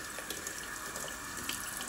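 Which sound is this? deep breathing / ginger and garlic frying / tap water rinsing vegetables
tap water rinsing vegetables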